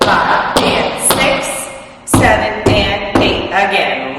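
Sharp tap shoe strikes on a hard floor land in quick clusters while a voice counts the beats over them.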